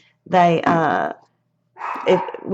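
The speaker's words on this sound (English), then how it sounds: "I'm sorry about my dog, y'all. She wants out and I'm ignoring her." A pet dog barks indoors, wanting to be let out, giving two loud, close, drawn-out barks with a whiny, yelping edge separated by a short silence.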